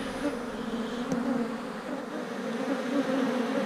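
Honeybees buzzing steadily around an open hive with a laying queen, a dense low drone holding close and even throughout with no talking.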